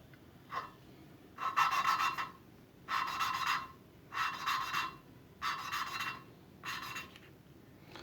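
An engine valve is lapped by hand against its seat, giving five or six separate rasping, gritty grinding bursts of about a second each with short pauses between, close and fairly quiet.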